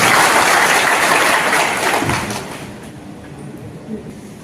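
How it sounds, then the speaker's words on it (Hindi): Loud applause from an audience at a district traders' association event in Damoh rings out, then gradually fades over a couple of seconds into quieter room noise. "इसके लिए पुनः एक बार पूरी टीम के लिए जोरदार तालियां"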